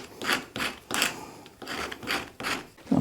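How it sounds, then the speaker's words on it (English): A scrap of sanding disc is rubbed by hand along the edge of a handmade wooden floorboard, making about six steady, close rasping strokes in an even back-and-forth rhythm. No voices are heard. "I'm just taking a little bit of this edge off with a piece of sandpaper, or actually a piece of sanding disc"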